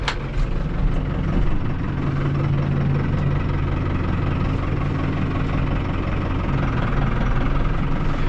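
A tractor engine runs steadily on a livestock farm while bulls are sorted into paddocks, a loud continuous low rumble with a faint knocking throb that holds an even level throughout, with no talk.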